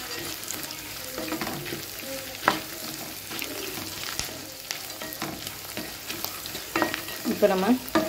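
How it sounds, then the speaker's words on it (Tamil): Fried turkey berries (sundakkai vathal) are sautéed in a pan for a kuzhambu, oil sizzling steadily while a spoon stirs and scrapes, with louder clatter near the end. "இப்போ நம்ம நல்லா வதக்கி விட்டுக்கலாங்க."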